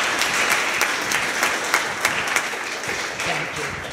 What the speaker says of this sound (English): can you please give her a warm welcome, a round of applause, to Councilmember Karen Koslowitz